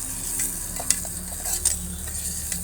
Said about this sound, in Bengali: দেখুন পেঁয়াজটা লাল হয়ে এসছে। আর একটু নাড়া হবে এখানে।